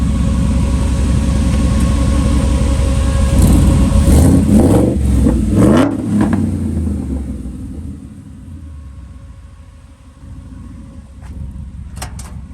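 A deep V8 engine in a Ford F100 truck with a Coyote swap rumbles steadily through its exhaust, then surges through several loud revs before settling back to a lower idle; no talking.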